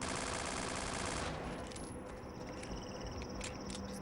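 An MP5 fires in Afraid of Monsters: rapid automatic shots rattle out in a dense burst, then give way to quieter, metallic clinking, like spent casings or rounds ringing at a steady rhythm.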